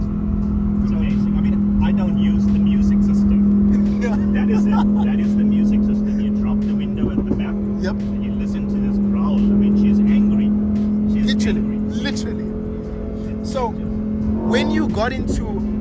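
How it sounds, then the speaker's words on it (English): Sports car with a factory near straight-pipe exhaust, a loud steady engine drone with rumbling tone, heard from inside the car under people talking. "this is practically straight pipe from factory, guys. And just listen to this thing."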